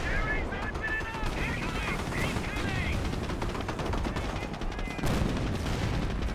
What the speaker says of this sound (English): Machine gun placement try to go on up, but will be interrupted.